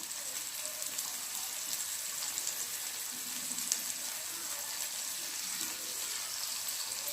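A masala omelette fries in a pan with a steady, soft, even sizzle that continues without a break, and no one speaks.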